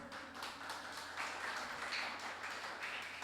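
Church congregation clapping for the Lord during a worship service, a steady wash of many hands applauding together at moderate volume through the whole stretch, swelling slightly toward the middle.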